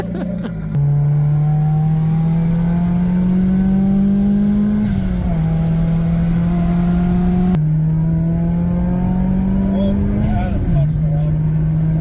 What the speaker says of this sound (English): Here, give her a little rev.